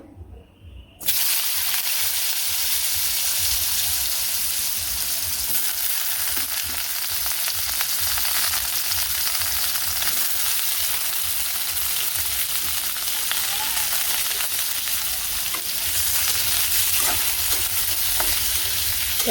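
Potatoes dropped into a pan of fried onions set up a loud, steady sizzle with constant stirring scrapes, running close and unbroken after a brief quiet start.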